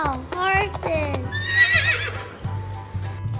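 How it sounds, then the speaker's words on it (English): A horse whinnies in a children's ABC phonics song, the neigh rising over a steady musical backing with a sung voice at the start. "Horses. Wow, horses."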